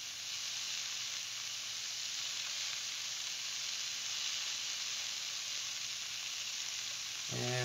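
Ginger chicken fries in a pan over high heat, giving off a steady, bright sizzling hiss that holds evenly throughout, with a brief clatter right at the end.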